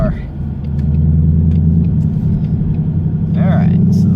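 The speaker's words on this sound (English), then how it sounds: "Still love the way this car sounds, dirty or not." A car on an errand run gives off a steady, deep engine rumble from inside the cabin, with faint road noise throughout.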